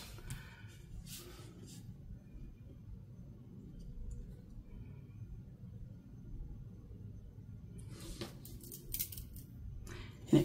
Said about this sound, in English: let's use a little bit sharper pair of scissors